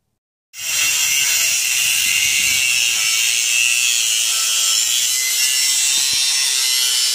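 Angle grinder cutting angle iron outdoors for a camping trailer build, a loud continuous bright grinding screech that starts abruptly and holds steady throughout.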